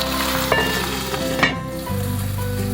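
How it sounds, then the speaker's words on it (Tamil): Potatoes fry in oil in the bottom of a pot beneath vegetable dolma with eggplant, making a continuous close sizzle and crackle with a few small pops and a faint clink partway through. "நம்ம அடியில் போட்டு வச்சுருக்கிற அந்த உருளைக்கிழங்கு எண்ணெய் நல்லா பொரிஞ்சு ஒரு நல்ல ஸ்மெல் வந்துட்டுருக்கு"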